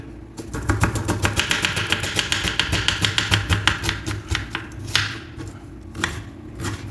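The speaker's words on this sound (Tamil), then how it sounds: "ஆனியன் கட் பண்ணிடுறேன்" A knife chops through onion on a cutting board in a restaurant kitchen, with rapid, evenly spaced knocks that run for several seconds, then slow to a few separate cuts, up close over a low background hum.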